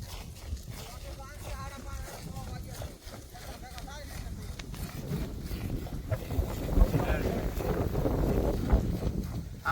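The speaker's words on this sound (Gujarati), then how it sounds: "પવન કેટલો છે એમાં સમજાય નહીં" Steady wind rushing and buffeting against the microphone outdoors in the Gir area of Gujarat, rising louder toward the end, with voices talking faintly underneath.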